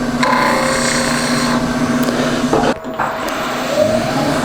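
A wood lathe turning a pine workpiece on a Vermec sphere jig runs with a steady loud whir and hum, broken by a brief scraping cut partway through.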